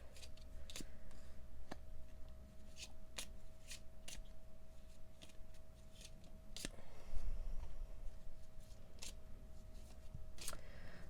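Cards are riffled and shuffled in repeated crisp, papery bursts with sharp snaps, close by, in a quiet room with no talking.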